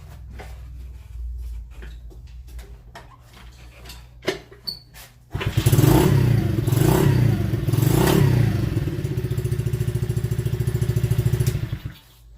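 A Trailmaster Coolster 70cc dirt bike is kicked over after some handling clatter, then its small engine catches and runs with a loud, steady low-toned burble and a few revs before shutting off.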